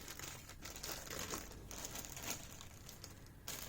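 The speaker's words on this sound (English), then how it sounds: "Let's open the clear part and see what is exactly included in this bag" A clear plastic bag holding the clear parts of a Hasegawa JACCS Civic Ferio JTCC model kit crinkles softly and steadily as it is handled and opened, close up and quiet, with no voices.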